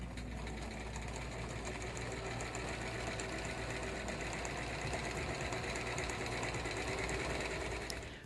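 A sewing machine stitches bias binding in one continuous run, a steady, even mechanical whirr with a fine rapid pulse from the needle, close up and uninterrupted.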